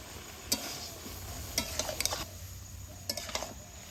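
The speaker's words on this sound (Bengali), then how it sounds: "টমেটো কুচি আর দিমো গোটা রসুন এবার কিন্তু একসঙ্গে ভালো করে মিক্স করে ঘাটে নিব" Chopped tomato and whole garlic stirred with mutton tripe in a hot pan: a few scraping strokes at irregular intervals over a steady low sizzle, close and moderately quiet.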